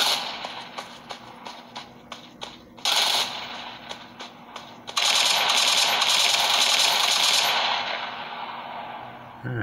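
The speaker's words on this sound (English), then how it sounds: "Them shots came from behind." Gunfire in the video game PUBG played on a Xiaomi Mi A2 phone: a run of sharp single shots, then sustained bursts of automatic fire that roar on for several seconds, loud and close.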